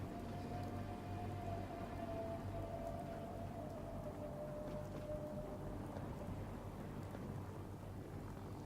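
Steady rain falls in Fallout 4 VR, a constant even hiss of drops, with a faint high tone drifting through the middle and no voices over it.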